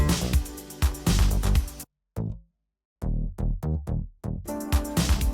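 An electronic bass line in the track plays deep, punchy rhythmic notes amid full music, breaks off into a short silence, then returns with the groove.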